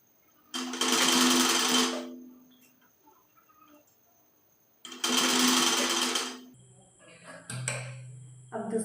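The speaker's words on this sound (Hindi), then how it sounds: "दोनों पल्ला को सीधा सिलाई लगाएंगे, डबल करेंगे आगे पीछे करके" Sewing machine stitching kurti panels in two steady close bursts of rapid needle whirring separated by a pause, followed by quieter clicks and a lower hum as the machine is handled.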